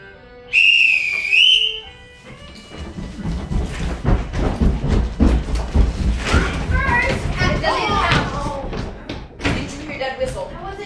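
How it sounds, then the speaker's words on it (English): A person whistles a short rising-and-falling call loudly and alone, followed by a busy household with children talking, footsteps and thumps. "He'd come roaring into the living room, take out his stopwatch, and whistle a cycle call."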